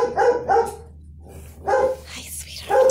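A tiny puppy's kennel echoes with dogs barking in loud repeated bursts, a few sharp barks at a time with short pauses, close by.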